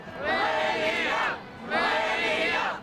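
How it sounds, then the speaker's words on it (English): A rabid home crowd at a Pittsburgh Steelers versus Dallas Cowboys football game chants in unison, two long loud swells of many voices with a brief dip between them, filling the whole stadium. "They're actually chanting Millennium."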